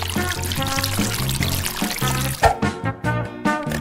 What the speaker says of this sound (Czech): Teď tu směs naleju do vody.